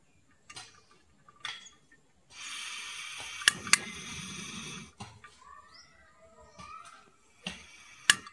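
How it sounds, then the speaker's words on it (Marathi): A gas stove burner is lit under a kadhai: sharp igniter clicks, then a hissing rush of gas lasting a few seconds, followed by scattered faint clicks in a quiet kitchen. "पहिलं आधी गॅस पेटवूया."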